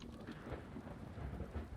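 Rain and rolling thunder from an incoming storm in the video game The Cycle: Frontier, a dense, steady downpour with a low continuous rumble, heard alone.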